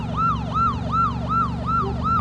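A police siren in a video game wails in a fast, repeating rise-and-fall cycle, loud and continuous, with a low rumble of engine noise beneath.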